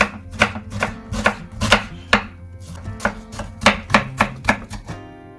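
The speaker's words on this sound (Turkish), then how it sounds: "Şimdi malzemeleri doğrayarak başlıyoruz. Soğanımızdan başlayalım." Brisk knife chops through an onion on a cutting board, a run of sharp evenly spaced strikes with short pauses, close and clear with no talking.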